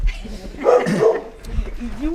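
A dog barks a couple of times amid overlapping voices during a group hike in the Cougaing valley, Aude, the barks mid-distance and moderately loud, mixed with casual talk.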